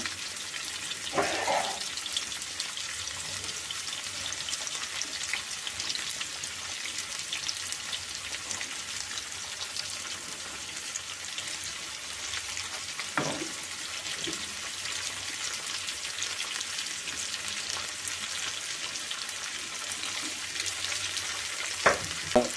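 Chopped onion pieces frying in a pan while making an ivy gourd and onion spice mix, a steady broadband sizzle running throughout with a few brief clinks of stirring.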